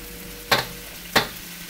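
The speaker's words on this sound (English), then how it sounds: "So you're just going to fry the egg on the side of the noodles?" An egg frying in oil in a wok beside noodles for pad thai, with the heat turned down; two short, bright bursts of sizzle and stirring stand out about half a second apart over a quiet background.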